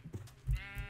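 A video game sheep gives a short bleat, close and clear, with a brief bleating burst and nothing else around it.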